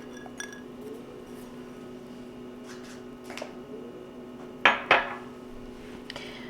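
A spoon stirring onion and half and half in a crockpot, with quiet scraping and two sharp ceramic clinks against the pot near the end, close over a low background hum.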